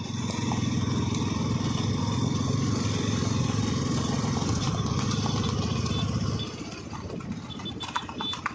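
Hooves of a Kutch mare, a Kutch Queen race horse, drum in a rapid steady rhythm close by, blended with a continuous engine-like drone that drops away near the end.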